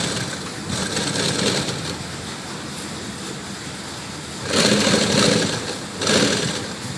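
A sewing machine stitches blouse fabric in steady mechanical runs, with louder bursts of whirring stitching near the end against a constant background hum.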